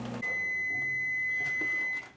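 A microwave oven cooking minute rice and broccoli hums steadily, and a long, high electronic tone sounds over the hum before it cuts off.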